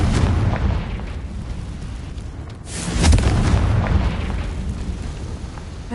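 Confringo blasting spell exploding in Hogwarts Legacy, a deep rumbling boom with sustained low-end roar that swells again midway, loud and close with no talk.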